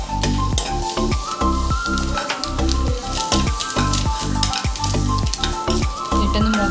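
Sesame and poppy seeds roasting in a pan for a dry fruit laddu, a loud continuous sizzle and crackle with rhythmic scraping of a stirring spoon, close and without speech.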